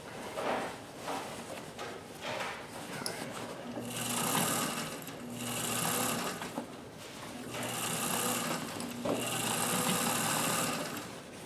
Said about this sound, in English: We're sewing inside the pant leg here now.